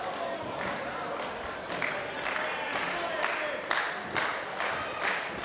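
Wrestling crowd at a PWX 2016 match cheering and clapping, a dense roar with rhythmic bursts of loud applause in quick succession, while a commentator talks over it.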